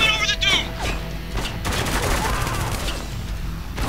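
Gunfire in the video game Spec Ops: The Line, with dense, loud bursts of shots and booms that run continuously through the moment, layered with game sounds and faint voices.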